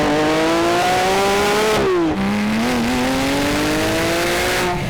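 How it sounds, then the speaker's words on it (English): A Porsche 911 S/T engine revs hard while driving, pitch climbing through a gear, dropping sharply at a quick shift around midway, then rising again in a loud, raw, continuous drone. "The engine spins up really well, so you have to balance your shift."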